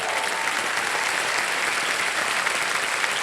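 Sustained studio audience applause on a TV quiz show, a steady even roar of many hands clapping throughout.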